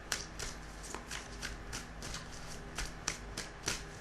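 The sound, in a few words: shuffling tarot cards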